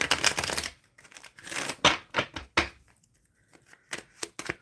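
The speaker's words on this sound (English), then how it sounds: "Spirit, I'm shuffling for Witchy right now" Tarot cards being shuffled by hand, a series of quick riffling and flicking bursts in uneven clusters separated by short pauses, close and moderately loud, with no voices heard.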